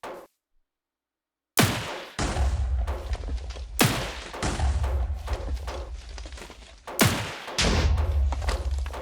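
A plasma cannon in Minecraft fires explosive shots: three loud, heavy blasts a couple of seconds apart, each opening with a sharp crack and trailing into a rumbling, crackling boom, after a brief silence at the start.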